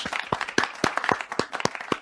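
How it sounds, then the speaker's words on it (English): A live audience applauds a CNBC correspondent's introduction, steady close clapping with sharp individual claps throughout, no talk over it. "I was too busy clapping"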